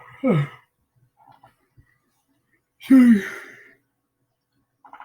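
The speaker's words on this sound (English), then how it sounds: "yawning." Two drawn-out vocal exhalations, a yawn-like sound followed by a longer, louder one a few seconds later, with quiet pauses between.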